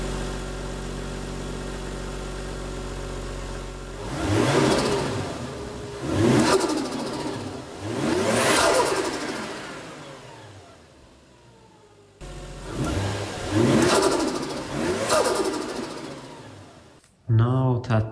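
A turbocharged Toyota 1JZ engine in a JZS171 car, fitted with a cold air intake, idles warm, then revs up sharply in several bursts, each climbing and falling back, with a final quick rev at the end.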